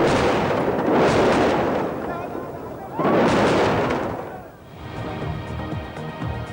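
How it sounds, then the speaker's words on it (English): Explosions and anti-aircraft fire over Iraq at the start of the war, heard as two long, loud rumbling roars with crackling bursts, the second fading out around four and a half seconds. "Explosions and anti-aircraft fire over Iraq."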